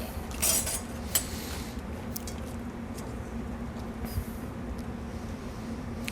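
A spoon scoops lumpia filling from a bowl with a few metal clinks and soft scrapes, close and fairly quiet over a low steady hum, with no talk.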